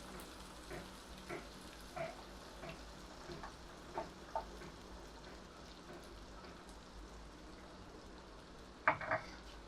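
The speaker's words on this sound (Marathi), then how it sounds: "आता याच्यामध्ये आपण ही जी पालक प्युरी केली होती ती घालतोय" Spinach puree is added to an Indian masala frying in oil and sizzles faintly and steadily, with occasional soft clicks and stirring taps from a utensil and a brief louder clatter near the end.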